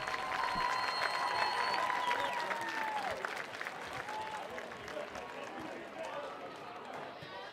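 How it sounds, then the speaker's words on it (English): Stadium crowd at a high school varsity football game between North Henderson and Franklin claps for the 2024 homecoming court, a broad steady wash of applause heard from a distance while an announcer speaks over a PA. "How about another round of applause for our"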